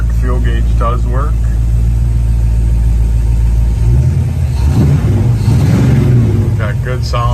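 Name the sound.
1975 Ford Gran Torino 351 V8 engine with dual exhaust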